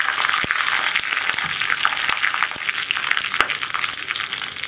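Curry leaves and dried red chillies frying in hot oil in a pan for rasakalan curry, a steady close crackling sizzle with scattered sharp pops throughout, no talking.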